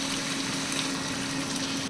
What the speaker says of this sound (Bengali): এখন মাছের মাথাগুলো কষানোর জন্য দিয়ে দিব সামান্য পানি।